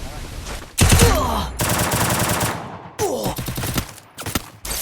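Rapid automatic gunfire from the Free Fire battle-royale video game, loud bursts with chirping game effects, separated by brief pauses across the clip.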